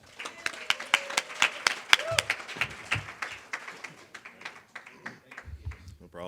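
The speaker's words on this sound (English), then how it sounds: "Everybody make it nice and loud for Nick Torchon." Live audience at a comedy event breaks into loud, sustained applause and clapping with some cheering, rising and falling in waves over several seconds.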